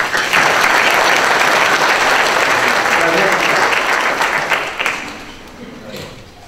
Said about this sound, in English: You can give all of them a round of applause.